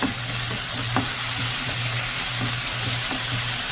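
Onions stir-fried in a pan over low heat with seasoned soy sauce, a steady loud sizzle with a spatula scraping and tapping now and then throughout.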